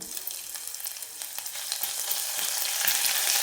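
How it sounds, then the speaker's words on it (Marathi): Crushed ginger and garlic fry in a pan for a Kolhapuri mutton rassa, giving off a steady crackling sizzle that swells louder toward the end. A few faint stirring scrapes sit under it, and there is no talk. "आणि नंतर आपल्याला याच्यामध्ये थोडंसं आपण अद्रक आणि लसूण ठेचून घेतलेलं आहे ते आपण टाकून घेऊ"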